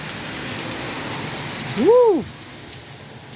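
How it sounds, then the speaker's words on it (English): A torrential downpour pours steadily onto a street with constant broadband hiss, while a person calls out an excited whoop partway through. "I love the rain."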